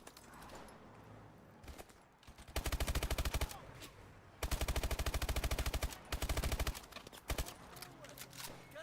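Rapid automatic gunfire in a Frogger-style video game comes in several loud, dense bursts of a second or more each, separated by short gaps, over quieter game sounds and occasional talk.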